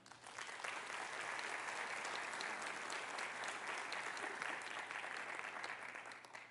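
A church congregation claps during a sermon, steady crowded applause held at an even level for several seconds, moderately distant and without speech.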